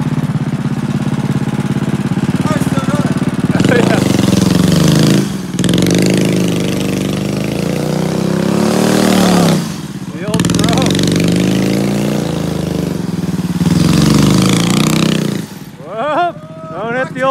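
A vehicle's engine revs and drones continuously while spinning donuts on ice during a freezing-rain outing, the mid-pitched roar rising and falling in surges with brief dips, under near-constant shouting and talk from onlookers.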